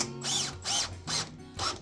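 A power drill drives screws to fasten a hinge on a cabinet door, four short close whirring bursts, each rising and falling in pitch, in quick succession.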